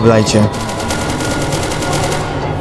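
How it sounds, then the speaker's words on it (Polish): Rapid bursts of gunfire in SCP: Secret Laboratory crackle steadily under a voice that speaks briefly at the start, the shots continuing at a fairly even volume throughout. "Tylko strzały słyszę."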